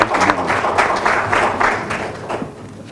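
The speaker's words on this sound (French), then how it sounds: "je vais vous demander d'applaudir une fois encore le bureau" An audience at an association meeting gives the elected board a warm round of applause, a dense burst of many clapping hands that swells and then gradually thins out over a few seconds.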